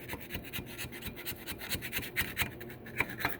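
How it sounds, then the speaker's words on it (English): A rat tail file rasps over a glued PVC pipe fitting, cleaning it up with quick, repeated scraping strokes. The strokes are close and fairly even in loudness, with no talking. "you can take like a rat tail file, clean up a little bit"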